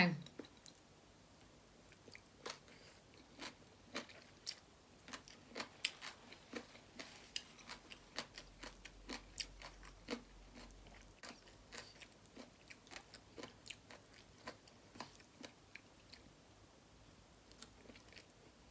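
Crunchy fresh vegetables chewed alongside khanom jeen rice noodles with chicken-feet curry, close and quiet, a long run of crisp irregular bites and crackles with soft clicks between them.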